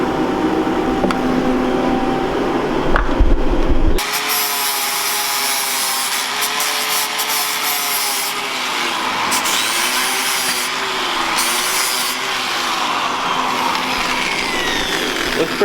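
Steady abrasive grinding on rusty steel cross members of a BMW E30 being prepared for welding, a continuous loud buzzing scrape that shifts pitch slightly as the tool is worked across the metal.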